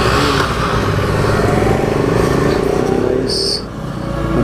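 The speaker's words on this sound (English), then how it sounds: "सभी अपनी बाइक को थ्रॉटल कर रहे हैं" A group of motorcycles on a Sunday ride, including a KTM 250, a 220 Pulsar and an Apache RTR, rev their engines together in a loud, continuous roar, with voices mixed in.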